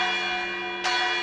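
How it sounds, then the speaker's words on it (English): Church bells ring steadily during a tabletop game session, a sustained resonant peal that swells with a fresh strike near the end, no voices over it. "There's your bells."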